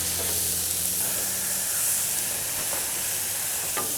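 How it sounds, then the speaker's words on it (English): Brisket-blend 80-20 burger patties sizzle on a hot griddle after being smashed, a loud, steady, close frying hiss that runs unbroken throughout with no voices. "So let's give these a good smash"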